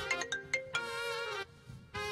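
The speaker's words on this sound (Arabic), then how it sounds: "ده تليفون صبر." A mobile phone ringtone plays a melodic electronic tune of quick bright notes followed by a sustained tone, pausing briefly before starting again. It sounds clear and fairly close, with no voices.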